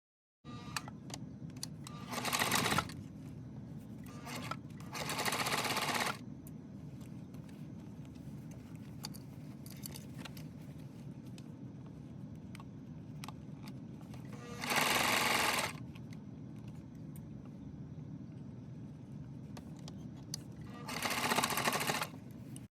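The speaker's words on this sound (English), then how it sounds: "we'll stitch a 1/4 inch seam all the way around that top of the bag" A sewing machine stitches a quarter-inch seam around the top of a fabric drawstring bag, running in four separate bursts of a few seconds each, close and fairly loud over a low steady room hum, with no talking.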